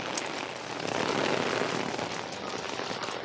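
Rain falling outdoors in a garden, a dense, continuous hiss of drops that stays fairly loud and even throughout, with no voices.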